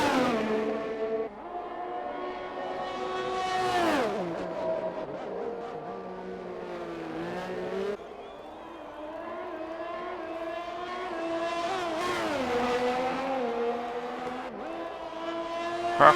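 Racing car engine in a Monaco race game screaming through its gears on a push lap, pitch climbing and dropping with upshifts and braking, loud and continuous with no talk.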